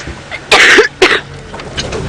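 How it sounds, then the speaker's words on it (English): Someone coughs twice in quick, harsh bursts, close and loud, aboard an early-morning safari game drive vehicle in a South African reserve, with faint rumble behind. "Sorry everybody for the coughing."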